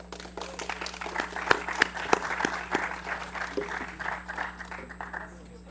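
An audience applauds at a conference panel, a sustained mix of many hands clapping under a voice, swelling and then fading out.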